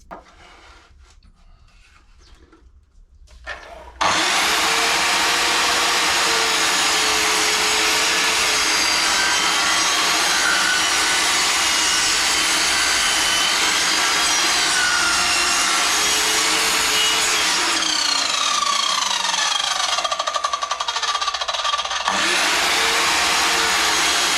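A long, steady run of machine sawing through a wooden board, loud and continuous with a droning whine, starting abruptly after a few seconds of quiet.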